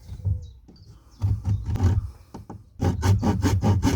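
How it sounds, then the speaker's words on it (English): A handsaw cuts wood on a boat in close, loud back-and-forth strokes, first slow and uneven, then settling into a faster, steady rhythm. "I only got a handsaw here"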